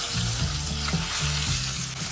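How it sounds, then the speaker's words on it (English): Whole spices including coriander seeds sizzle steadily in hot oil, a continuous close, crackling fry with faint pops and stirring throughout, no voices. "Let them sizzle for 30 seconds to bring it out the aroma."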